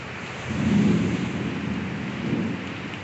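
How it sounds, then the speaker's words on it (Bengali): Heavy rain pours steadily during a kalbaishakhi thunderstorm, with deep thunder rumbles swelling loudly and then easing under the constant broadband hiss of the downpour. "খুব জোর বৃষ্টি হচ্ছে।"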